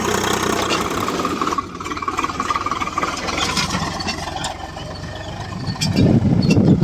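A tractor engine drones steadily at close range while basal fertilizer is spread along raised field beds, a continuous mid-low rumble that swells louder near the end, with no talk.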